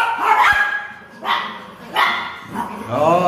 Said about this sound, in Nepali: मलाई भुकिरा यिनीहरूले